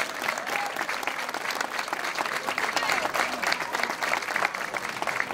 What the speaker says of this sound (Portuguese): Uma grande salva de palmas para eles que vieram ter connosco